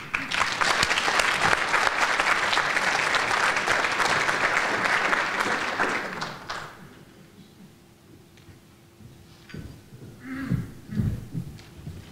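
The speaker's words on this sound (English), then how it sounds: "Give them a round of applause, please." A chamber of commerce awards-evening audience gives a loud, dense round of applause that stops abruptly partway through, followed by quiet room noise and faint voices.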